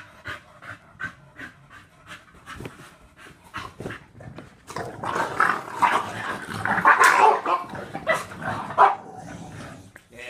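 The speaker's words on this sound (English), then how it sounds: "Did Mouse bark?" A dog panting and letting out short barks and whimpers close by, quiet intermittent bursts at first, then a louder stretch of excited vocalizing.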